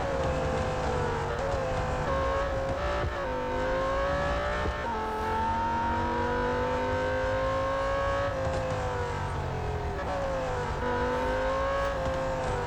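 Engine of a Lamborghini Huracan in the Real Racing 3 racing game, a continuous loud high-revving drone that rises and falls with gear changes and throttle, running unbroken throughout with no voices.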